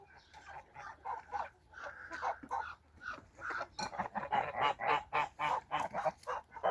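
Several young heavy-breed ducks call in a farmyard, a run of close, repeated honking quacks that grows busier and louder toward the end, with no talk over them.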